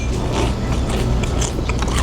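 Close, crunchy bites and chewing on deep-fried battered lotus fruit with chilies, a dense crackle of crisp batter breaking continuously for a couple of seconds.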